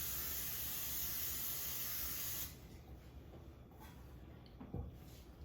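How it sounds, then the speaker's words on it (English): Vegetable cooking spray hisses from a can onto two cake pans for a honey cake, one loud continuous spray of about two and a half seconds that stops abruptly, followed by quiet kitchen handling sounds. "I'm going to take my 2 pans and I'm going to use some vegetable spray"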